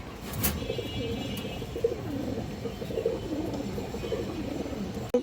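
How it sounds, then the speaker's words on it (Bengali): Maxi Giribaz pigeons, including a pure female, coo in a loft, a dense murmur of overlapping soft low coos with a few wing flutters, steady and close. "পিওর মাক্সি গিরিবাস মাদি কবুতর"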